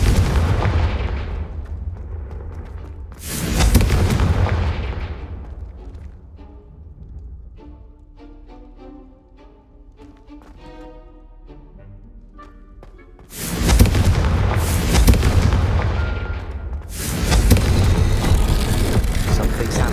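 Confringo fire spell blasts in the video game Hogwarts Legacy, several loud booming explosions in bursts at the start and end, with a quieter musical stretch between.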